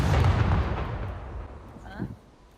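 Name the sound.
grenade or mine explosion in video game SCUM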